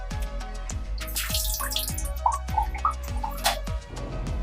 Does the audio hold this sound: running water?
yes